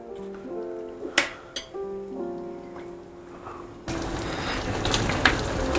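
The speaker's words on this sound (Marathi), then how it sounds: "चला आता ही आपली झालेली आहे एक छान उकळी येऊ दे याला" Egg curry gravy in a pot comes to a boil. A few light clinks come first, then a dense, steady bubbling simmer fills the last couple of seconds.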